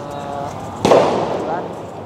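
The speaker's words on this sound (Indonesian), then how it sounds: "Beberapa petasan dilempar ke" A firecracker thrown during a night protest at the gate of the Mako Brimob Kwitang compound in Central Jakarta goes off as a single sharp, loud bang with a brief ringing tail over a murmuring crowd.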